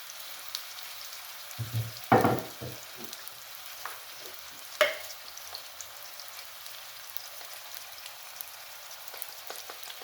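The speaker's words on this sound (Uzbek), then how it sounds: "O'rtacha olovda qovuramiz." Gentle frying on medium heat for Uzbek urama khanum, a faint steady sizzle with a few louder clattering knocks early on, then a quiet crackle continuing alone.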